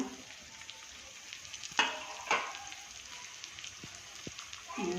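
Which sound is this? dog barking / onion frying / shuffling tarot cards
onion frying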